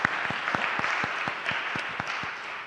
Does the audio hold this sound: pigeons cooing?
no